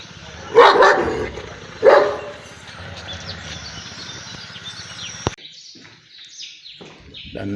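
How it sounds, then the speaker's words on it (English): A large guard dog on a farm barks twice, loud and close, followed by quieter outdoor ambience with birds chirping and a sharp knock near the end. "That's a mighty dog that does a major security work here."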